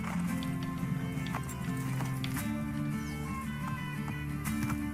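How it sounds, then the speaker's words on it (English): Horse galloping in Assassin's Creed Brotherhood, rhythmic hoofbeats thudding over steady game music, close and continuous, with a faint voice in the background. "we get to chase a horse"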